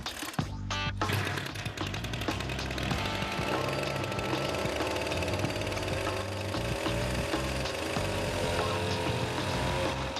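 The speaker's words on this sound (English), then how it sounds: "The new weed whacker is actually working fine. It's whacking away." A weed whacker motor spins a fan propeller on a homemade hovercraft, a continuous loud buzzing drone that runs steadily the whole time after a brief start.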